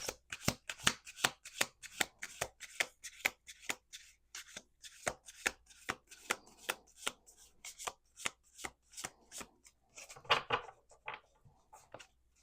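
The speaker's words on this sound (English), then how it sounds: "Two more shuffles." Tarot cards are shuffled repeatedly in quick crisp riffles and taps, a steady rhythmic series of sharp flicks, close and clear with no talking.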